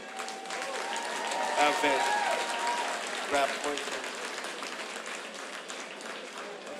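Crowd applause and cheering for the bands at a hardcore punk concert, a sustained roar of clapping and shouts with a person talking over it.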